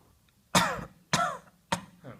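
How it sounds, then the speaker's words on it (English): A man coughs three times in sharp, separate bursts, close to the microphone, with brief pauses between them and no speech. "I just have a bit of cough"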